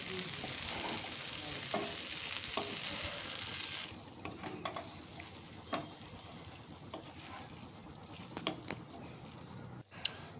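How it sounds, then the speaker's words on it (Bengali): Vegetable curry sizzles softly in a pan while a spoon stirs it, giving a frying hiss with scattered scraping taps, quiet and close. "আমি একটু নাড়াচাড়া করে দিই"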